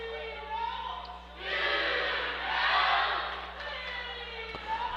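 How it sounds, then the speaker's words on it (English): Home crowd at an El Reno boys basketball game rising into loud cheering and a chant, swelling twice to full volume in a big gym over steady crowd noise. "El Reno crowd getting into it."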